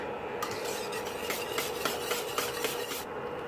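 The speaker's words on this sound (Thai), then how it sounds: "ใช้ไฟกลางๆนะคะ หมั่นคนนะคะรอให้ผงเฉาก๊วยสุกนะคะ" A spoon stirs instant grass jelly powder mixture in a pot over medium heat, giving steady scraping, rasping strokes at a regular rhythm, close and moderately loud with no talking.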